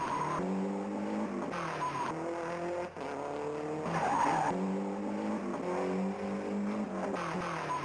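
Cars racing in a retro video racing game, a buzzy engine tone stepping up and down through gears over constant tire-skid squealing, steady and continuous throughout.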